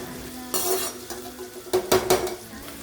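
Carrot is lightly stir-fried in a pan, with clattering utensil scrapes and stirs in short bursts over a soft sizzle, close and fairly loud.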